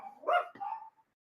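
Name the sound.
puppy barking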